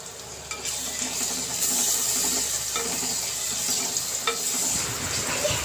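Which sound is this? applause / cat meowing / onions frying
onions frying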